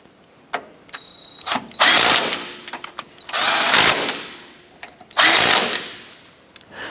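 A power tool on a 2008-2012 Honda Accord front strut assembly buzzes in three loud bursts snugging down the nuts, with brief clicks and quiet pauses between, close and alone.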